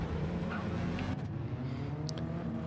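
Hypercar race cars head out to qualify at Yas Marina in a racing video game, with a faint, steady engine drone and a brief revving pass. The sound stays low and there is no talk.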